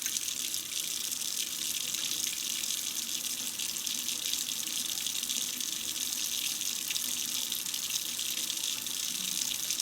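Warm water runs steadily from a kitchen tap into a measuring cup, a constant bright, hissing splash close by with no voices.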